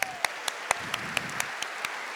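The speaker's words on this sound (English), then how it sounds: "Let's give her a round of applause, too." Audience applause at an event, a steady wash of clapping with a few sharp, closer claps standing out at a regular rhythm on top.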